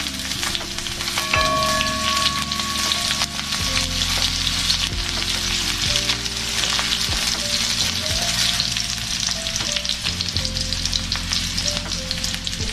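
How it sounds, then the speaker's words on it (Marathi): Chopped green chillies sizzle steadily in hot oil in a wok, a loud continuous frying hiss with scraping stirs and a low background hum throughout. "आता तेल गरम झाले आहे व मी त्यात प्रथम कापलेली हिरवी मिरची टाकतोय."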